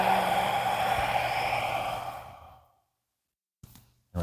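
A single long, audible exhale during a qigong breathing exercise trails off into silence over about two and a half seconds, followed later by two short breathy sounds, close and clear.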